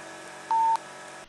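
A Creative Sound Blaster Tactic3D Omega wireless headset gives its low-battery warning, a single steady electronic beep about a quarter second long, loud and clear over a faint background hum, recorded from the headset on a phone.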